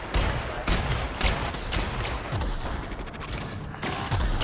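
DMR-style rifle fire in the video game The Outer Worlds: sharp, loud shots repeating about every half second over a steady backdrop of battle noise.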